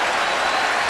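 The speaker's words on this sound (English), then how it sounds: "They are applauding" Basketball crowd in an arena applauding, a steady wash of dense clapping and crowd noise, loud and continuous for a moment.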